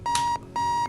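An alarm clock in the video game Keep Talking and Nobody Explodes gives two short, evenly spaced electronic beeps, close and loud, with no voices.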